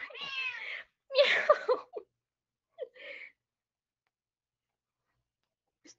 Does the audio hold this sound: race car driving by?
no